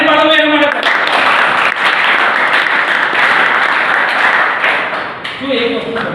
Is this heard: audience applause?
yes